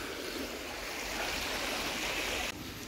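High floodwater flowing after heavy rain makes a steady, close, broadband rush, like a fast stream, with no voices over it.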